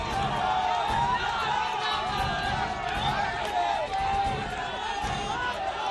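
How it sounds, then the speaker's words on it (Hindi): A large, excited crowd at an Aaj Tak Rajtilak political debate in Kanpur roars steadily as a party spokesperson is welcomed, a continuous wash of cheering, clapping and shouted voices without pause. "तालियों के साथ इनका भी स्वागत कीजिए"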